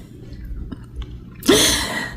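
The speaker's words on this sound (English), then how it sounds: "I had to pause to sneeze." A single sharp sneeze erupts close by after a moment of quiet, then trails off into a breathy tail.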